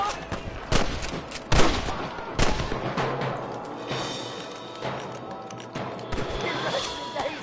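Gunfire in the video game Red Dead Redemption, sharp loud shots and volleys at irregular intervals, several close cracks early, then thinner scattered fire over a low rumble, with some talk mixed in.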